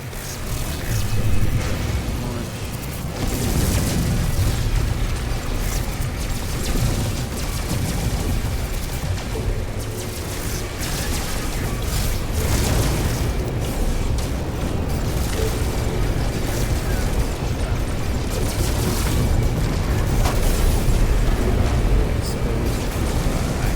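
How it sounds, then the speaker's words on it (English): Enemy missile explosions in the space game No Man's Sky, a long run of dense booms and bursts rumbling continuously with heavy low-end, loud and sustained over a steady noisy backdrop. "Enemy missile inbound."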